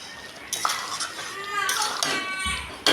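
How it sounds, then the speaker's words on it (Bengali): Prawns go into a pan of coconut-milk gravy for prawn malai curry and are stirred, with metal utensils clattering and scraping against the pot in short, lively bursts. "এবার আমি চিংড়ি মাছগুলো দিয়ে দিলাম।"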